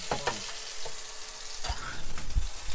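Toulouse butcher's sausages, taken from the freezer, cook in a pan aboard a boat with a soft, steady sizzle, occasional clinks and faint voices in the background.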